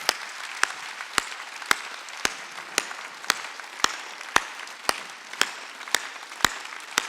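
In a Sunday church service, a congregation claps in a steady, even rhythm of about fourteen sharp, evenly spaced claps, close and distinct against a quiet background.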